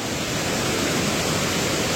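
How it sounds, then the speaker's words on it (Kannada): A roadside waterfall in hilly Kerala country pours in a steady, dense roar. The rushing wash stays loud and close, with no voices. "ಫುಲ್ ವಾಟರ್ ಫಾಲ್ಸ್, ಎಲ್ಲ ಕಡೆನು ನೀರು ನೀರು"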